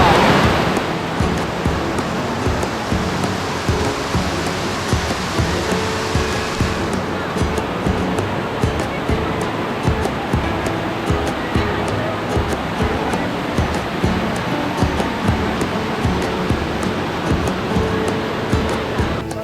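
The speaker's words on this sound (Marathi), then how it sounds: "हो पाठीमागे दिसतोय महाकाय धबधबा" A huge waterfall roars at one of seven falls in one place, a loud unbroken rushing wash of water that runs the whole time, with wind buffeting the microphone.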